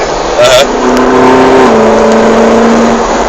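A Ferrari 458 Italia accelerates on a road near Araçoiaba da Serra, its engine note rising steadily in a loud, close, sustained whine heard from inside the car, with a brief gear shift.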